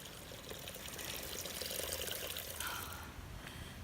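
Fresh spring water pours steadily from a source along the Appalachian Trail, a soft continuous splashing trickle heard close by and fairly quiet outdoors, with no talking over it.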